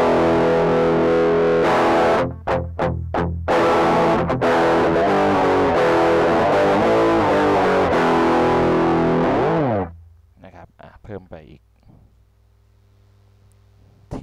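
An electric guitar with humbucker pickups runs through a Providence Stampede SDT-2 distortion pedal, playing thick, loud distorted chords with a few choppy muted stabs and a bending riff, then the sound cuts off into a quieter, decaying tail.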